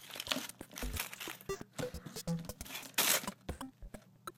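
A Hello Kitty chocolate surprise egg is peeled and cracked open, its foil wrapper crinkling and crumpling in quick, uneven bursts close to the mic, with a sharper crunch partway through.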